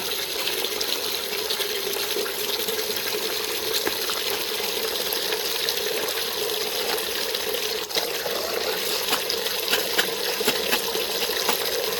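Water runs steadily from a tap while raw vegetables are washed, a constant close splashing flow with small clinks and trickles, no voices heard.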